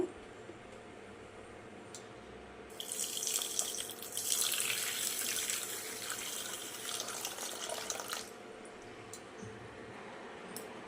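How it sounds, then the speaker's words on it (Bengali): Water runs into a cooking pot from a tap for several seconds, a steady splashing rush that rises and then fades, heard close in a quiet kitchen. "সম পরিমাণে জল দিয়ে দেব"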